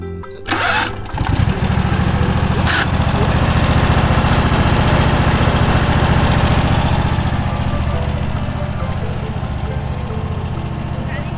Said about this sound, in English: We're teaching Dad how to drive the ride-on lawnmower.